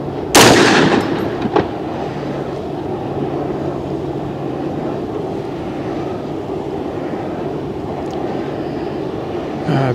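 A single loud 450 Bushmaster rifle shot firing a Hornady 240 XTP-M round rings out near the start, followed by a long outdoor echo and steady background rumble.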